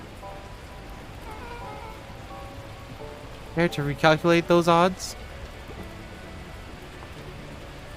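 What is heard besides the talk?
heavy rain in a video game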